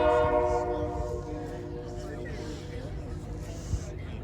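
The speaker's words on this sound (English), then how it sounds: "And the train's pulling in to its first stop at Hackettstown." A Dover and Delaware River Railroad Toys for Tots train pulls into its stop at Hackettstown, its horn sounding a long tone at the start before fading under rumbling wheels, with a person talking over it.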